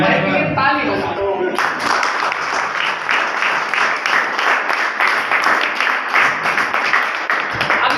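An audience breaks into sustained clapping and applause right after a voice, the claps dense and steady throughout at close range.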